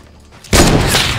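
A Fortnite sniper shootout shot hits as a loud sudden blast about halfway in, its broad roar sustained to the end after a quiet lead-in.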